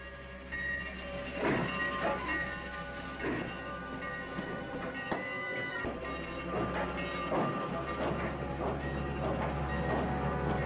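A train rumbles past with a steady low drone and a rhythmic clatter of wheels over the rails, heard from a moderate distance.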